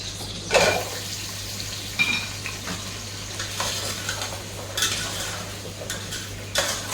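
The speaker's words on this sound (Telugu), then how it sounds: "పెద్ద పెద్ద ముక్కలు కట్ చేసుకున్న క్యారెట్ ఉల్లగడ్డ కూడా వేసి మనం ఫ్రై చేస్తాము" Large pieces of carrot and potato fry with onion in a pan, heard as a soft sizzle broken by periodic clanks and scrapes of a spoon stirring against the metal.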